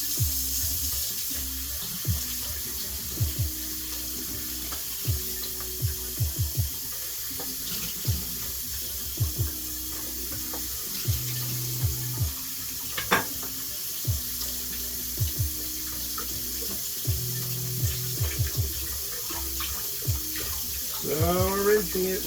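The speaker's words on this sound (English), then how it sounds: "and rinse it with cold water" Cold tap water runs into a sink to rinse hot cooked gluten-free soba noodles, a steady splashing wash with intermittent clinks and clatter throughout, music and a voice faintly underneath.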